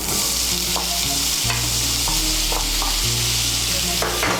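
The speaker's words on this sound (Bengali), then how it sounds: "এই তেলের মধ্যে আমি ভাপিয়ে রাখা ছোলা কচুগুলো ভেজে নিচ্ছি" Steamed sola kochu (arbi) chunks frying in oil in a pan after fish, a loud, continuous sizzle with steady stirring scrapes throughout.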